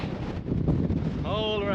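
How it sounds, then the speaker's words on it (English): Strong wind on the 457-metre summit of Caer Caradoc in Shropshire buffets the microphone in loud, rough gusts, and a voice begins speaking over it near the end. "it's bloody windy today"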